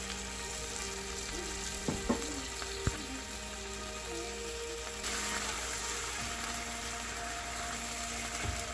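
Pasta sauce sizzles steadily in a frying pan at breakfast-lunch cooking time, a continuous close crackle that grows a bit louder and brighter halfway through, with occasional utensil clicks and no talking.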